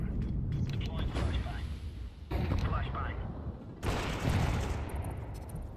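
Bursts of video game gunfire crackle under a man's speech, the shots coming in quick clusters separated by brief pauses.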